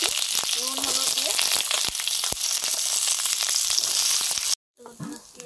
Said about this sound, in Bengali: প্রথমে একটু অল্প একটু কড়াতে তেল আছে, ওটা দিয়ে নেড়ে নিচ্ছি নুন হলুদ দিয়ে